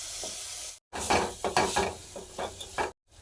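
Spices and chopped tomato cooking in a pan with onion and ginger-garlic paste, a close, loud sizzle broken by repeated scraping stirs and brief pauses; no talk.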